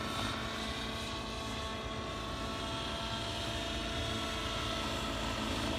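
A 90-size nitro RC helicopter flies steadily nearby, its engine droning loud and continuous with a buzzing rotor whine that holds without a break.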